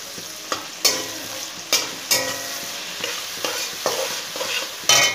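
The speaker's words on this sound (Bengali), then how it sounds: "এটা পেঁয়াজ ভাজা বসিয়ে দিয়েছি" Onions fry in a pan, a continuous sizzle broken by repeated sharp scrapes and clatters of a spoon stirring against the metal, with no talking.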